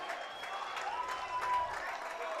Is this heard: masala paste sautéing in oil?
no